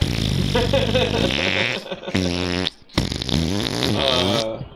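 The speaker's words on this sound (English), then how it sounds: "Make a flash fart noise." Cartoonish fart sound effects, played as a string of loud, buzzy, rubbery bursts with a brief silent gap near the end, close and dominant throughout.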